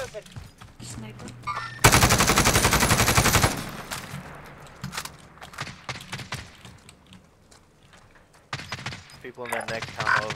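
Gunfire in Call of Duty Warzone: a loud sustained automatic burst lasting about two seconds, followed by scattered sharper shots and clicks, with voices talking over the game at times.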